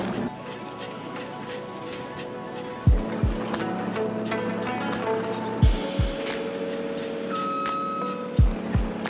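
A Bobcat loader being driven at a bitcoin mining farm, with a low engine drone and mechanical whine broken by several loud metallic clunks and thumps. No one speaks.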